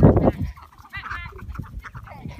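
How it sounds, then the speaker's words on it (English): A few soft clucks and short calls from chickens on a farm, fairly close, after a brief louder thump at the start. "There are chickens and ducks."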